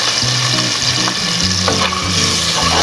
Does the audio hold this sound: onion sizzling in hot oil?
yes